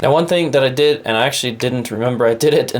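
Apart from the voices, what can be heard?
None of the usual background noises is heard.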